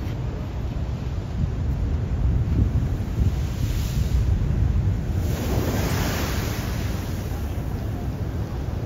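Huge ocean waves pound the shore at Pacifica, flooding streets near homes and the closed pier: a continuous, loud roar of surf with heavy wind buffeting the microphone throughout, swelling midway as a breaker crashes in.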